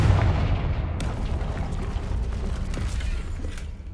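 Confringo fire spell explosion in Hogwarts Legacy, a close, heavy boom with crackling, rumbling aftermath that stays loud and dense for several seconds, with no voices.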